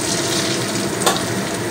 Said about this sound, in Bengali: ওই তেলের মধ্যে আমি কেটে রাখা আলুটা দিলাম